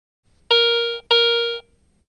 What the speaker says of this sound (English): Non-ferrous targets with high conductivity, such as larger silver coins, produce a bell tone signal